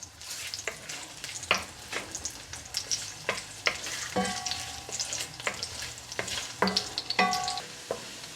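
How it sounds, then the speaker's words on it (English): Ginger and garlic sizzle in hot oil in a pan, a steady close frying hiss broken by repeated sharp stirring clicks and scrapes. "I'm going to put some ginger into the oil and garlic for flavor, to flavor the oil."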